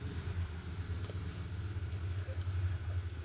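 Vehicle engine in the Free Fire battle-royale game, a steady low idling rumble that continues throughout without letting up.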